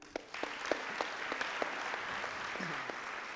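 Audience applause at a live trading seminar, a dense patter of many hands clapping steadily for a few seconds at moderate distance, with a few sharper individual claps standing out and a brief murmur near the end.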